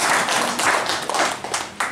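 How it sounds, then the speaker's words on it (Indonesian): Applause and clapping from attendees at a village deliberation meeting in Indonesia, a short burst of hands clapping close by, irregular and fairly loud, with a voice briefly audible. "Boleh tepuk tangan untuk kita semua."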